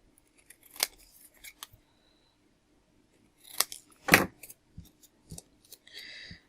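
Scissors trimming paper for a watercolour flower craft: scattered crisp snips and slicing cuts close by, in short irregular bursts with quiet gaps between them and no talking.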